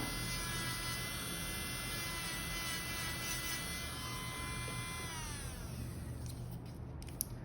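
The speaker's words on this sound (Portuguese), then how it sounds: "Vou vir com essa broca cônica só para afastar." An electric nail drill fitted with a conical bit whines at high speed during a nail fibreglass application, a thin steady tone that falls in pitch as it slows, over faint background noise.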